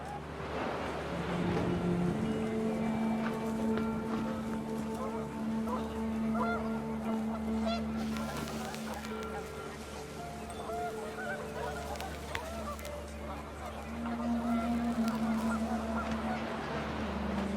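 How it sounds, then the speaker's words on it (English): Panicked geese honk repeatedly in the video game What Remains of Edith Finch, a flock's overlapping calls over windy ambience, moderately loud and continuous. "The wind picked up, and panicked geese appeared and quickly went."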